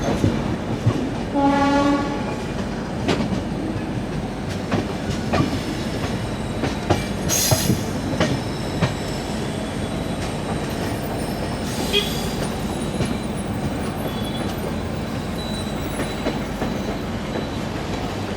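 The 12431 Rajdhani Express rolls out of Alappuzha station in Kerala on its Thiruvananthapuram to Hazrat Nizamuddin run. A horn sounds early, then comes a steady close rumble with rhythmic wheel clatter, a few sharp metallic squeals and clunks.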